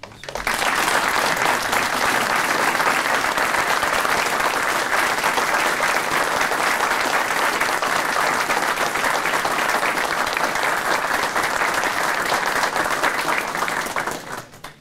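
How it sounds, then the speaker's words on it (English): Sustained, dense applause from the audience at the 2009 PACE Award ceremony for the award winners, loud and steady for about fourteen seconds before fading at the end. "let's give a big round of applause to both 2009 PACE Award winners."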